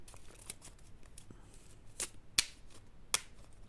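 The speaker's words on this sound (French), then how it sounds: "Après, je le mélange dans l'autre sens." Large oracle cards being shuffled by hand: quiet papery riffles and slides with a few sharp snapping flicks, close and faint, with no speech.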